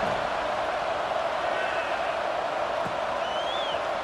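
Steady crowd murmur fills a football stadium during a game, a broad, continuous buzz with no distinct cheers or peaks, holding at an even level throughout.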